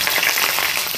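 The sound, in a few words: garlic frying in boiling oil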